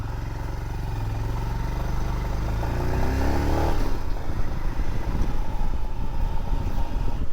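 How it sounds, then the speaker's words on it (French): A motorcycle engine revs and pulls away, its rising tone giving way to loud wind rush as it picks up speed, close and continuous. "maintenant on remonte sur la moto"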